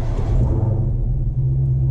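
A car engine idles steadily close by, a low continuous rumble with a slight hum and no revving, alone without speech.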